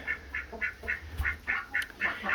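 Several ducks quack in quick, uneven bursts, close by and moderately loud, with no talking.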